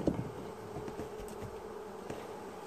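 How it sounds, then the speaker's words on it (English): Honeybees buzz steadily and close during removal of a hive from inside a camper, a dense continuous drone with a few nearer individual bees passing by. "You got a big bee on the back."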